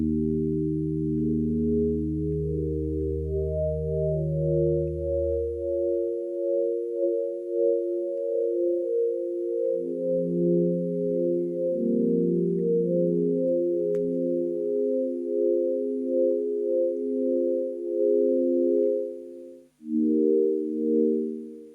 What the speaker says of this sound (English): Let's go back over to the chorus and actually see how that sounds with that.